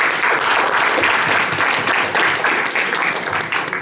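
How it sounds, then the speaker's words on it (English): Sustained, loud crowd applause welcoming a team at a congress in Estonia, dense clapping continuing steadily throughout with no break. "A warm welcome and applause for the whole team here in Estonia"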